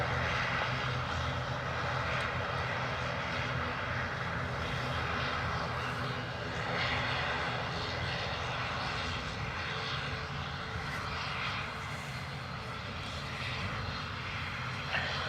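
An aircraft takes off from runway 10 right at Dublin Airport, a loud, steady, broadband engine roar sustained throughout, with no voices over it.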